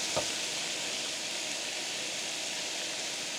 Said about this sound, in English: With the ribs browning in here